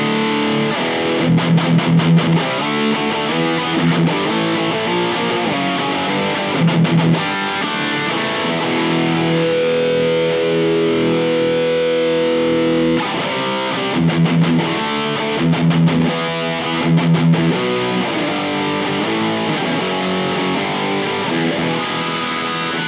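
A distorted electric guitar plays through a Mesa Boogie MkIIC+ amp model, loud and saturated. It alternates chunky, rhythmic palm-muted bursts with sustained ringing chords, and no speaker cabinet is heard.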